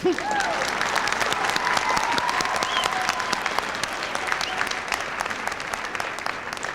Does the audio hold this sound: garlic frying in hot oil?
no